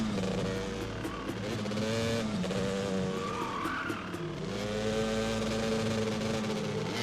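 Roaring motorcycle engine in the PlayStation 3 game Haze, loud and continuous, its revs climbing and dipping with a brief tire-squeal-like whine partway through and no talking.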